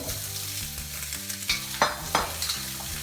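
Vegetables sauteing in hot oil in a wok give a close sizzle, broken by a few sharp clattering stirs and scrapes, with steady low music playing underneath.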